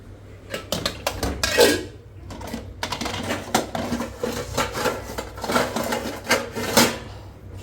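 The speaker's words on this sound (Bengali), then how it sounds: "এখন ঢাকা দিব এটাকে, ভাতের পাতিলাটাকে" A lid set onto a rice pot in a home kitchen, with a cluster of close metallic clanks, clatters and rattles over several seconds as the cookware is handled.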